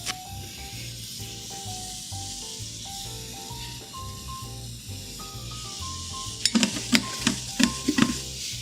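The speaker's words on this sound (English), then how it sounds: "stir it up, trying to get as much fat out of that bacon as you can" Bacon fat sizzles softly in a pot, with a faint steady hiss under a background tone, then a few sharper scraping clatters of stirring near the end.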